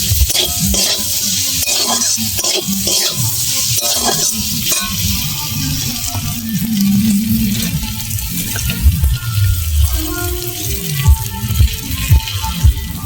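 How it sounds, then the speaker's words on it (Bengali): Food, including a fried egg, stirred and fried in a pan, a loud continuous sizzle with rhythmic scraping of a spatula throughout. "ভালো করে একটু নেড়ে চেড়ে তারপর একটা ডাল দিয়ে দেবো।"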